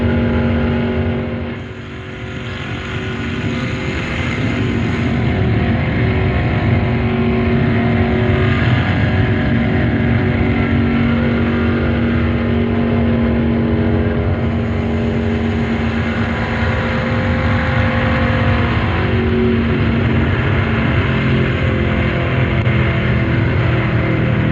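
A NASCAR stock car running flat out around the Daytona track, its engine a loud, sustained roar that holds steady with a brief dip near the start before surging back at full tilt, with no talk.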